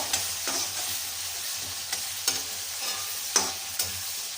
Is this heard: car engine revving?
no